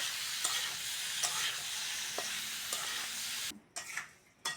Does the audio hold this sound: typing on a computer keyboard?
no